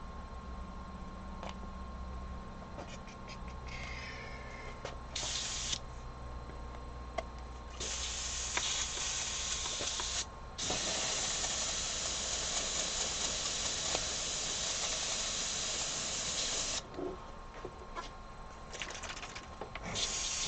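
An airbrush sprays paint onto a denim jacket in bursts of steady hiss, some several seconds long and some brief, separated by short pauses.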